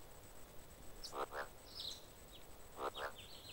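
Two pairs of soft, raspy frog croaks sound in the Final Fantasy VIII game world, alongside faint chirps over a quiet ambient background.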